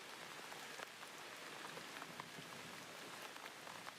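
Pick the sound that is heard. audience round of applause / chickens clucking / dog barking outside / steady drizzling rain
steady drizzling rain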